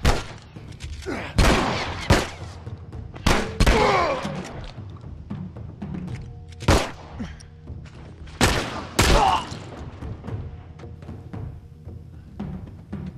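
Gunfire in the video game The Last of Us, a burst of loud, close shots with sharp thuds and booms spaced irregularly, mixed with game effects and a player talking in between.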